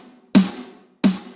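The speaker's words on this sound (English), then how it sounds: "That's the punchy snare" A layered, punchy drum and bass snare drum struck twice alone, each hit a hard, bright crack with a short decaying body, the two hits spaced about two thirds of a second apart, close and loud.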